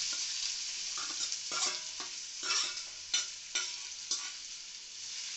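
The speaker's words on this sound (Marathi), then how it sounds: "कांदा चांगला परतून घेऊया." Onion frying in hot oil with cumin seeds, a bright steady sizzle broken by repeated scraping strokes of a spatula stirring the pan, close and clear with no voices.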